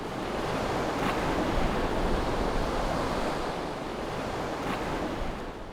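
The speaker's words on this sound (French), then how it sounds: "il y a beaucoup trop de vent, beaucoup trop de houle" Constant roar of ocean surf and swell, blended with strong wind buffeting the microphone, loud and unbroken throughout.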